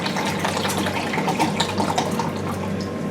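Water is poured into a pan, splashing steadily with bubbly, gurgling texture, continuous and fairly close.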